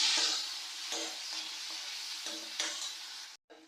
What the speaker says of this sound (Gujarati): મરચાં થોડા કોલા થઈ જાય ફ્રાય એટલે તેમાં નાખી દે ટમેટા બધું મિક્સ કરી લેવાનું